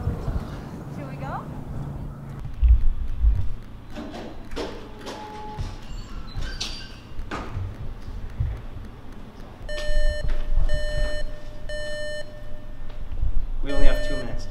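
An alarm beeps in rapid repeated bursts during a film heist, sharp electronic tones at moderate volume, heard alongside footsteps and scattered noises while people speak.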